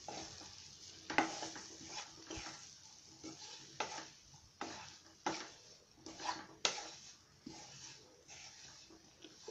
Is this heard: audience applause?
no